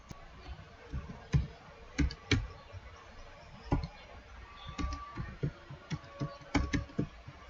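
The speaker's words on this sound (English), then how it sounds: "So let me type what I can easily remember." Someone typing a password on a computer keyboard, producing distinct separate key taps and clacks at an irregular, unhurried pace, close and fairly clear with light background noise.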